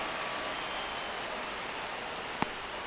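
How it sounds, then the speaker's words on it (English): Steady hiss of rain falling at a ballpark in MLB The Show 25, a broad even wash throughout with one sharp tick near the end. "It feels like we might be headed towards a rain delay if the weather doesn't ease up, Chris."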